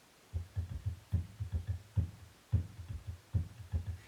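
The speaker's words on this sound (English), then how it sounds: "It's just like me, like just tapping on my electric guitar." Muffled, reverb-soaked tapping on an electric guitar body or strings, a soft low rhythmic thumping pattern repeating steadily, faint and alone with no voices.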